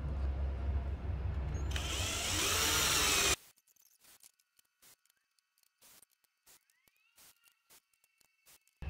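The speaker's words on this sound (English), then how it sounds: "Now that I have drilled all the holes in each end of the timbers" Power drill boring bolt holes through reclaimed timber pickets using a jig, a loud steady whine for about three seconds that cuts off abruptly, followed by quiet with scattered faint knocks and clicks.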